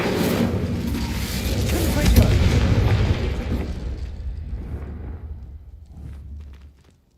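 A fiery Incendio spell effect from a Hogwarts video game: a loud deep whooshing burst that swells, rumbles and slowly fades out over several seconds.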